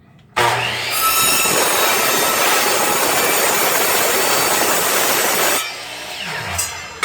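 A loud power saw with a worn blade whines through a cut for about five seconds, harsh and steady, then spins down, leaving a quieter mechanical hum.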